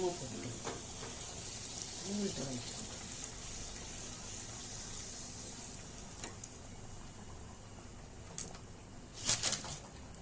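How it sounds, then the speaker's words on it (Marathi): Steady, soft sizzling of puri frying in hot oil, with faint clinks and a brief louder splash of bubbling near the end. "ही एक ट्रिक आहे पुरी तळायची"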